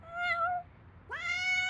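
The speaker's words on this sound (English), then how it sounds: "Where's that meowing coming from?" Cartoon cat trapped inside a dumpster gives two clear meows, a short one then a longer rising cry after a brief gap, close and loud with no talking.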